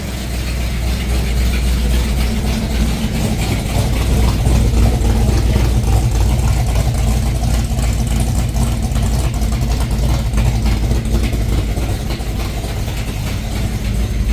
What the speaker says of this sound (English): it's that bloody lifter in there making a racket.